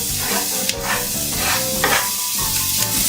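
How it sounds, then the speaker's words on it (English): Sliced sausage rounds and two cloves of minced garlic sizzle steadily in a gumbo pot, a close, continuous frying crackle with occasional stirring scrapes and bursts of hiss. "we're going to go ahead and add 12 ounces of our sausage"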